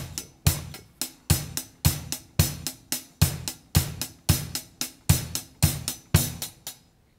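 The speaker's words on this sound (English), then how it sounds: "Then I'm adding bass drum and play the first beat in every group" A drum kit plays a steady 7/8 groove of hi-hat with bass drum on the first beat of each group, producing a crisp, evenly repeating pattern of close, dry hits with no talking.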